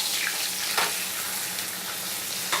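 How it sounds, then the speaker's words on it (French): Shallots fry in a little butter in a pan, giving a dense, bright sizzle that crackles steadily close up, with a few sharper spikes as the pan is stirred. "revenir les échalotes dans un peu de beurre"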